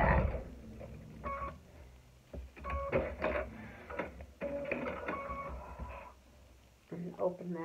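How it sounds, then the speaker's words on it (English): A sewing machine stitches tiny Liberty fabric quilt pieces in short, close mechanical bursts separated by brief pauses, with a steady whirring hum during each run. "We're going to go ahead and sew that."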